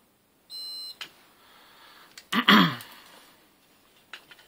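A multimeter gives a short continuity beep while its probes test the terminals of a carbon brush, a steady tone near the start followed by clicks and a brief rustle of handling, close and fairly quiet.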